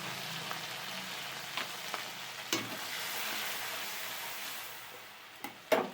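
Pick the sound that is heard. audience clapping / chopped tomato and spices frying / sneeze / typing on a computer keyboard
chopped tomato and spices frying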